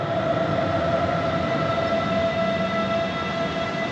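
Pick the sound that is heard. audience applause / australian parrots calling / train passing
train passing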